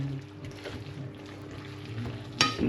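Chopped tomatoes are stirred in a frying pan inside a motorhome, producing soft, wet scraping and gentle sizzling, with a sharper clatter near the end.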